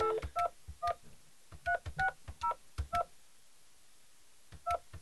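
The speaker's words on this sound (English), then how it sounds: "Let me try and dial this number." A telephone keypad dials a number: about a dozen short, clear DTMF beeps in uneven groups, each tone crisp and close, with quiet gaps between them and no talking.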